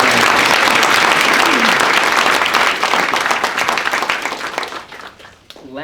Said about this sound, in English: So let's give Ramona a round of applause for being here today.